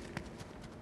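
Custom character footsteps in Fortnite, a quick run of light rhythmic steps, fairly faint, with a few crisp clip-clop taps in under a second.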